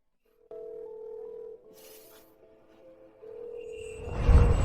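A phone call rings out on a mobile, with steady tonal ringback beeps in a quiet room, followed by a louder rumbling burst of noise at the end.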